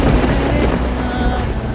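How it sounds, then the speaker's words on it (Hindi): Heavy rain pours down steadily with deep thunder rumbling through it, a dense, loud, continuous storm wash with no voices. "ऊपर से ये बारिश"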